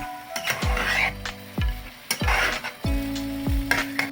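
Potato pieces sizzle and fry in a pan for a lemon rice side dish while a spoon or spatula stirs them, with several sharp clanks against the pan over a steady frying hiss.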